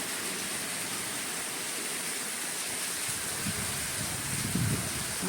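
A continuous hiss of heavy rain fills the background, even and unbroken, with a faint low rumble underneath.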